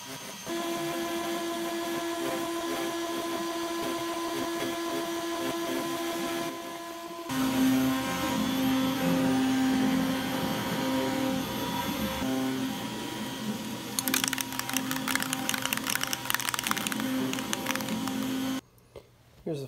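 A power tool cuts a hatch in a custom cabinet, a loud continuous whine with a steady pitch that shifts and changes load partway through, ending in a rough, rattling stretch before stopping.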